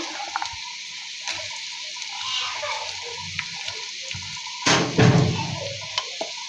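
Tomatoes frying together with chopped onions in a pan while cooking a pangas fish curry, a steady soft sizzle throughout with a brief louder burst of hiss and clatter midway.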